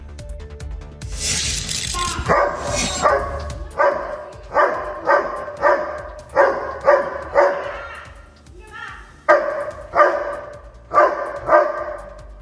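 Pet dog barking at a snake in a home garden, with loud, close, repeated sharp barks in uneven bursts after a brief hiss at the start, occasional whimpers between them.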